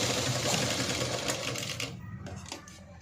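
A sewing machine stitches the hanging on a blouse back neck, a loud, dense whirring rattle close by that stops partway through, followed by a few light clicks and handling taps.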